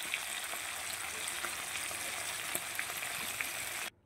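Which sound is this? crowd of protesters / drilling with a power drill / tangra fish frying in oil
tangra fish frying in oil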